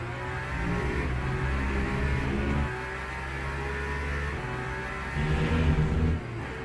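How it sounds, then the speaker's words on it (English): Tyres squeal on scorching asphalt in the Le Mans Ultimate racing game, heard on new tyres at the limit of grip during a league race. A steady engine drone and tyre noise hold throughout, swelling slightly near the end, with no voices. "More squealing."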